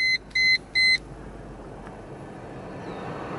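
Three short electronic beeps chime up close from a Mercedes W140 limousine, followed by the low, steady hum of its engine running.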